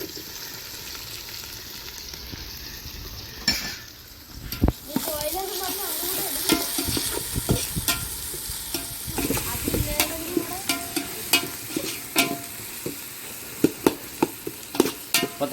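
Chopped tomatoes sizzle steadily in a frying pan while being prepared for chicken pulao. A spoon scrapes and stirs through them repeatedly, making clacks and scrapes up close, and a voice speaks briefly over the cooking.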